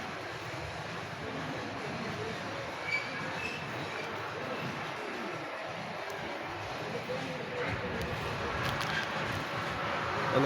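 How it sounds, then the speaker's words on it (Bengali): Small toy train running around a loop in a park, giving a faint, steady rolling rumble that grows slightly louder toward the end, with occasional light squeals and voices in the background. "তো ট্রেন দেখেন ওই পাশ দিক ঘুরে আবার এই দিক দিয়ে চলে আসছে"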